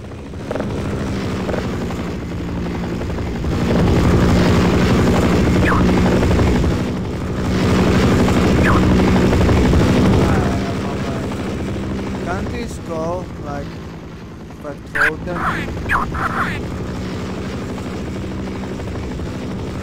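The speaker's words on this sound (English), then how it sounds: "I wanna see if the helicopter going somewhere away from me" A helicopter's steady rotor drone rumbles continuously in a VR game set in a desert with mines, swelling louder at times, while occasional game effects and a voice pass over it.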